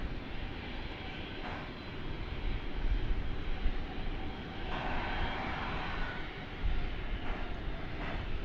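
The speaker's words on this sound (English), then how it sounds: "on runway 18 left, there's American flight 2005, which is about to take off to Los Angeles" An American Airlines jet bound for Los Angeles rolls for takeoff on runway 18 left at DFW Airport, its engines giving a broad, steady roar heard from a distance that swells slightly without letting up.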